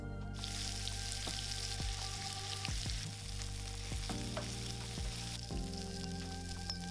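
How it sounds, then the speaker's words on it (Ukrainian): Shrimp frying in hot oil in a pan, a steady close sizzle with occasional crackles and stirring clinks against a background of low music, with no voices. "В розігрітій олії підсмажуємо креветки до золотистої скоринки."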